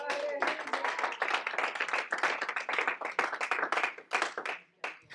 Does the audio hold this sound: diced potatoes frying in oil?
no